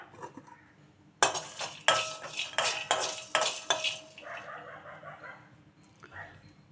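Peanuts, cumin and coriander being dry-roasted in a pan, stirred with a metal spoon that clinks and scrapes repeatedly against the pan, then a softer rattle of the seeds.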